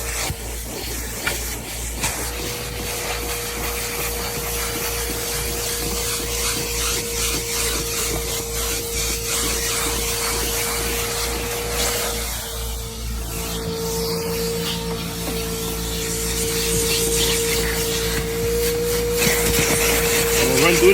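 A vacuum runs continuously inside a car during interior detailing, giving a steady whining hiss with a sustained tone, punctuated by brief suction and scraping changes as the nozzle moves over surfaces.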